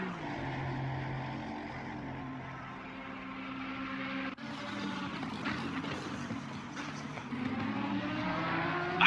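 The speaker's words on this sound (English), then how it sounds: "Makes another nice noise, that Ferrari." A Ferrari race car in Assetto Corsa Competizione during a 12-hour endurance race at Spa, its engine droning and shifting pitch as it accelerates, a sustained loud roar with a sharp gear change midway.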